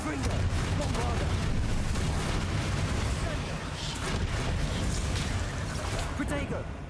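Bombarda spell explosions in the Hogwarts Legacy video game roll on continuously as a loud, dense rumble of blasts, with a voice heard over the din.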